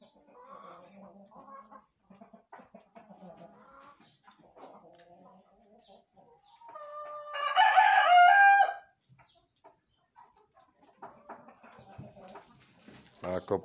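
An English game rooster crows once loudly at close range, a clear ringing call lasting over a second, set between quieter stretches of farmyard clucking and a person speaking.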